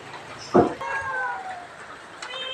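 A cat on a temple roof at Wat Pong Chai in Chae Hom, Lampang, lets out a few short meows. They are moderately close, with a soft thump beforehand and a faint later cry.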